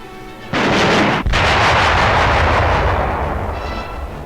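Live firing of a German anti-tank rifle (Panzerbüchse) in 1943 wartime newsreel footage: one sharp, loud report, then a long rumbling echo that slowly fades.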